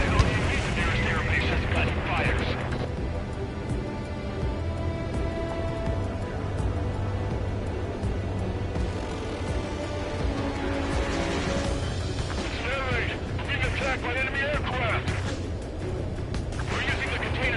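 Anti-air guns firing in the jet combat game Ace Combat 7, a dense continuous barrage of bursts and booms alongside jet noise, with radio voices talking over it.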